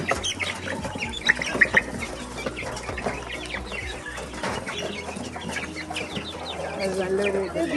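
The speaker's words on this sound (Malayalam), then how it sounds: "ലാർവേനെ നമ്മൾ ട്രെയിലിട്ട് കോഴികൾക്ക് കൊടുക്കും" Hens and ducks cluck and fuss close by while pecking at black soldier fly larvae poured from a tray, with a steady busy chatter of birds and occasional louder squawks.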